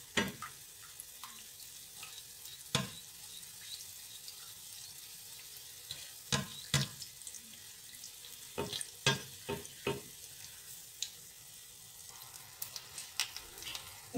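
Samosa rolls shallow-frying in oil in a pan give a faint, steady sizzle, broken by scattered sharp clicks and taps from the pan or a spoon.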